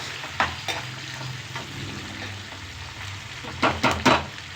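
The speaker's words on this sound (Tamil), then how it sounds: "வெங்காயம் கொஞ்சம் நல்லா வதங்கணும்." Onions with a small piece of chopped ginger sizzling in a pan while cooking rava kichadi, a steady soft frying hiss with a few louder crackles and stirring scrapes near the end.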